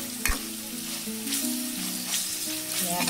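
Oil sizzles steadily in a pan as ingredients fry until reddish for a Telugu prawn curry, a soft constant hiss with occasional stirring scrapes and small pops, close and without talk.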